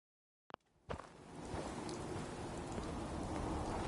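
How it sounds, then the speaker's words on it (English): Rain falls in the Fallout video game, starting after a short silence and a couple of sharp taps, then swelling into a steady, close patter on surfaces. "Damn rain is soaking right through me clothes."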